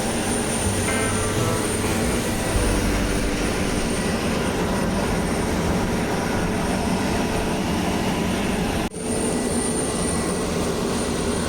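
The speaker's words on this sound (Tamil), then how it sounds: "ஸோ 180 சீட் கெப்பாசிட்டி கொண்ட ஃப்ளைட் இது." A 180-seat passenger airplane is heard from the cabin, a loud steady engine drone with a high whine over it. It holds steady throughout apart from a brief dip near the end.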